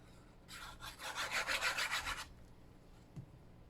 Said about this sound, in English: When I'm burnishing it down now, I'm not pushing too hard on it.